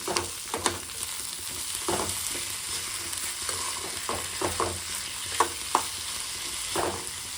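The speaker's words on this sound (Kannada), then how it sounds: "ಸ್ವಲ್ಪ ಹೆಚ್ಚಿಟ್ಕೊಂಡಿರೋ ಟೊಮಾಟೊ ಮತ್ತು ಕರಿಬೇವು, ಕೊತ್ತಂಬರಿ ಇದಿಷ್ಟು ಹಾಕ್ಕೊಂಡು ಮತ್ತೊಂದು 2 ನಿಮಿಷ ಕೈ ಆಡಿಸ್ಕೊಳ್ಳಿ" Chopped tomato, curry leaves and coriander fry in a pan with a steady sizzle, while a spoon stirs and scrapes in intermittent sharp clatters, with no voices.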